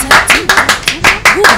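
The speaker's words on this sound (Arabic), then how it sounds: "صفقوا على بوبا مزيان" A few people clap for Bouba in a radio studio, roughly eight loud, close claps in an uneven rhythm, with voices and cheering heard between them.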